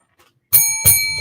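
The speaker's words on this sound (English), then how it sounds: "I'm getting my bell, so I'm gonna ring my bell" A hand bell is rung on stage at a Black History Month celebration event, two bright, loud rings in quick succession after a brief silence, each ringing on and fading.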